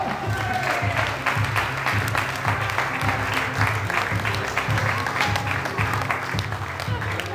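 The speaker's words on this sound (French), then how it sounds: "On peut les applaudir très très fort." Audience applause for an American wrestling star, steady dense clapping across the whole stretch with talk running underneath it.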